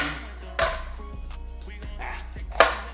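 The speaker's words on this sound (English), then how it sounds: "Chop it. Chop, chop, chop." A knife chops red and green peppers on a cutting board in a few sharp, irregular strikes, quiet between cuts.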